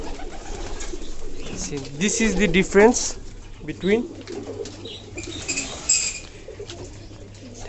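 Pigeons cooing in soft, throaty bursts while being hand-fed grain, with occasional wing flutters nearby, partly under someone talking.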